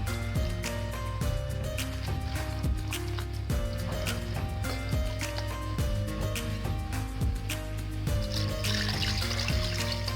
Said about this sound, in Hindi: पानी हम इसमें इतना शामिल करेंगे कि गोश्त गल जाए अच्छी तरह से।